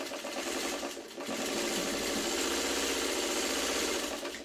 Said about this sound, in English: The easiest way to sew these is with the point up,